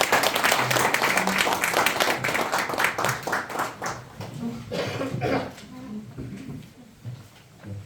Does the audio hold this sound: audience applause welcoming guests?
yes